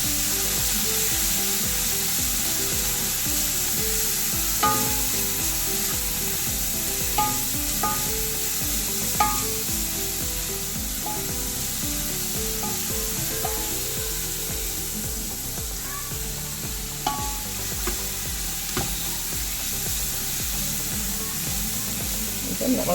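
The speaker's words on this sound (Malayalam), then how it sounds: "ജസ്റ്റ് ഒന്ന് വഴറ്റിയെടുക്കാൻ വേണ്ടിയിട്ട്" Onions being sautéed in a pan for mutton biryani give a steady close sizzle. Scraping and stirring clicks sound at intervals throughout, and no voice is heard.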